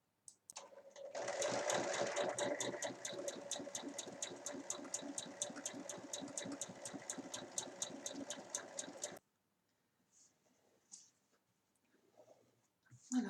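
A sewing machine runs a long, fast, steady seam joining fabric pieces, its even mechanical stitching rhythm lasting about eight seconds, then stops, leaving faint handling noises.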